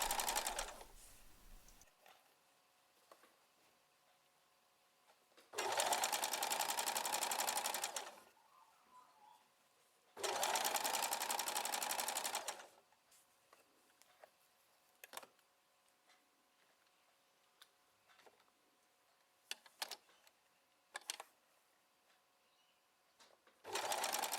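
A sewing machine stitches lace onto a dress bodice in two steady bursts of a few seconds each, separated by quiet pauses with faint handling clicks.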